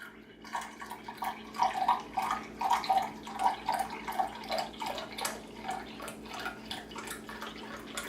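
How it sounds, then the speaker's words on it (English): Beef stock poured into a pot around the sides of a pork roast, giving close, uneven liquid splashes and trickling glugs that pulse in a steady rhythm for several seconds, without talking. "now we're going to take our beef stock and we're going to add it in."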